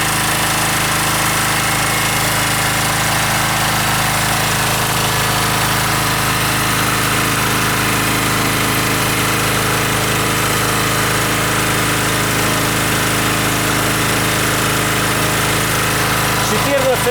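An OKAY 2.8 kW petrol generator with copper windings and AVR stabilisation runs nearby with a loud, constant engine drone and steady hum that holds at an even level throughout.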